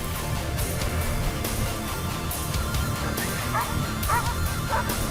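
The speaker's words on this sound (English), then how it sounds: "The dog will keep barking until the handler arrives." A search dog in a grassy field barks repeatedly, with sharp yips and whimpers cutting through steady outdoor noise, fairly loud and continuous throughout.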